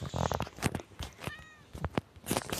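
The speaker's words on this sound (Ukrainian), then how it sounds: "О, він нявкнув." A cat meows several times, one clear drawn-out call standing out between nearby human talk, close and moderately loud.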